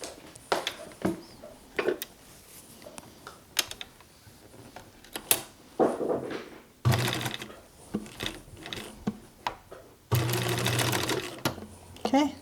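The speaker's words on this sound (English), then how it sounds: "I will come along and stitch it here to tack it" A sewing machine tacks the cloth straps onto a ninja-style cloth mask, running in two short bursts of rapid mechanical stitching between quiet handling clicks and rustles.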